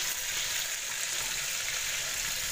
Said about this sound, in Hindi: हम इसमें बटर डालेंगे।